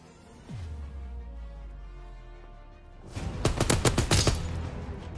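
Gewehr rifle fire in Call of Duty WW2, a hum of game ambience giving way to a burst of rapid, sharp, loud shots cracking close together near the end.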